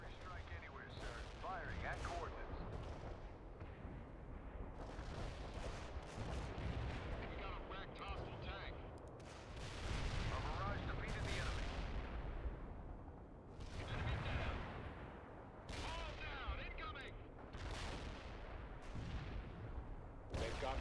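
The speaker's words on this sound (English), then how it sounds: "Fire mission received. Artillery barrage inbound." Artillery barrage explosions in the World in Conflict war game, repeated heavy booms and rumbling blasts rolling one after another, loud and dense, with radio-style voices talking over them.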